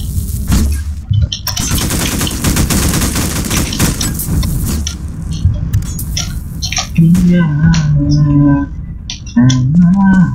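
Rapid bursts of gunfire from a first-person game of Garry's Mod, loud and continuous, with a vehicle engine-like hum and electronic tones appearing later.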